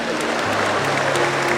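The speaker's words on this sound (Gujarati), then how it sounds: "જો બેનો તાળીયું પાડી" Women in an audience clap at a devotional gathering, a brief dense burst of hand claps with a low hum underneath.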